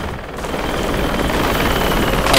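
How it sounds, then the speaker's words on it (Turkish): Helicopter in the Project Reality video game during infantry gameplay: a loud, close, continuous rotor and engine roar that holds steady and swells slightly toward the end. "Bak, içeri helikopteri."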